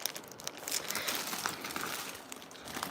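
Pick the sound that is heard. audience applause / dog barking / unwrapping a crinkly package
unwrapping a crinkly package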